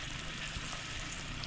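Chicken frying in a pan gives a faint, steady sizzle with soft crackle running through the whole moment and no voices over it.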